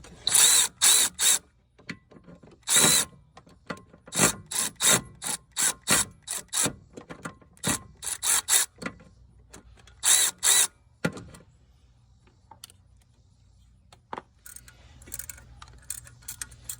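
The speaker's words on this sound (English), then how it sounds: "Instead of using a wrench, we're going to use a ratcheting wrench, or whatever, electric ratchet wrench" An electric ratchet wrench turns bolts on the timing components of a 2007–2011 Kia/Hyundai 2.0 engine, firing in loud, sharp clattering bursts of varying length, separated by quiet pauses and a faint background hum.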